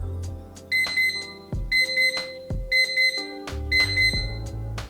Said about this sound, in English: it starts beeping, 4 chimes, and then it stops.